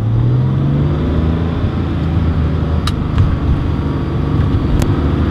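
A 1995 Porsche 911 993 C4 engine revs with the window down, its deep continuous rumble rising and holding loud from inside the cabin, with a few brief sharp clicks over the roar.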